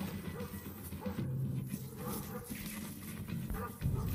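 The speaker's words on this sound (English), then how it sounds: "But this Caucasian shepherd dog will not let the bear to come close to his house." A Caucasian shepherd dog barks and growls in repeated bursts at a grizzly bear near a house, loud and close over steady background noise, with some heavier thumping sounds.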